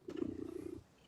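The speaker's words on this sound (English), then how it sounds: "think that's a cat." A brief, close, low rumbling purr sounds for under a second, then fades into quiet.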